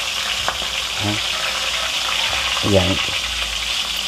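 Catfish (hito) frying in hot oil, a steady broadband sizzle filling the whole stretch, with a couple of brief spoken words over it and a faint clink of a utensil.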